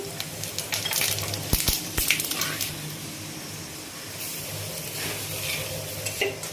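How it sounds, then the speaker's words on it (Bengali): Panch phoron spices hit hot oil in a wok and sizzle loudly and steadily up close, with sharp clatters and scrapes of stirring near the start and a continuous hiss throughout. "এবারে আমি কড়াইতে তেল দিয়েছি, তেল ছিল আর একটু তেল দিচ্ছি। এবার 5 ফোড়ন দিচ্ছি।"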